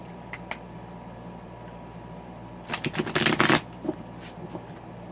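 A Santa Muerte tarot deck being shuffled, a few faint card taps followed by a quick burst of riffling cards lasting about a second, close and clear over quiet room tone.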